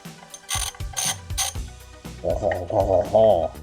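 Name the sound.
wrench loosening bolts on motorcycle clutch cover plate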